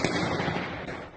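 Gunfire and explosions in war-torn Kyiv as Russian forces close in on the Ukrainian capital, heard as a dense, continuous burst of crackling pops and booms at steady loudness, fading slightly at the end.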